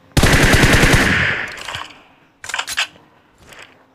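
Rapid automatic gunfire in the video game PUBG, a loud sustained burst of shots followed by a few short clicking mechanical bursts, with no talking.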